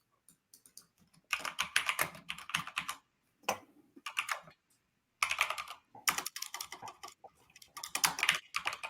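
Fast bursts of typing on a computer keyboard while writing code, crisp clustered keystrokes in several runs separated by short pauses, close and clear with no talking.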